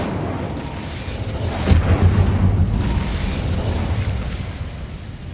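Incendio fire spell cast in Hogwarts Legacy, a loud whooshing blast with a sharp onset near the start, followed by a sustained rumbling roar that slowly fades, with no talking.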